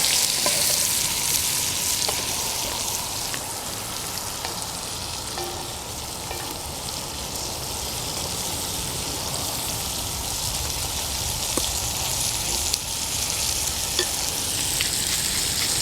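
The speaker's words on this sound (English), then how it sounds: "You can hear the olive oil and onion sizzling in the bottom of the pan." Olive oil and onion sizzle steadily in a pan, a continuous crackling fry with small pops and occasional stirring scrapes.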